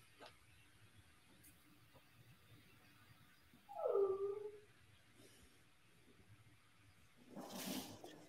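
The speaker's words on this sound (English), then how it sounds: "my dog got trapped here" A dog trapped behind a door gives one short, faint whine or whimper, with a muffled thump and a bit of knocking at the door shortly after, over a quiet room.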